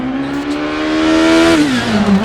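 Front-wheel-drive rally car engine in Dirt Rally 2.0 holding a steady buzzing drone, then rising in pitch and dipping as revs shift, loud and close with no voices.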